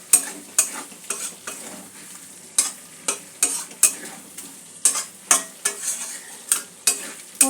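A spoon stirs spices for a cauliflower and potato curry in a frying pan, making sharp scraping strokes in a steady rhythm over a soft sizzle, close and clear.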